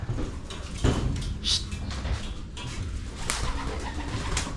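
Pigeons in a loft of breeder and flyer birds coo softly and repeatedly, close by, over background rustling and a few clattering knocks from the cage or door.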